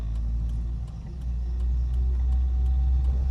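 A car engine runs with a steady low rumble as it accelerates during a driving lesson, the drone holding strong and close throughout with faint ticking over it.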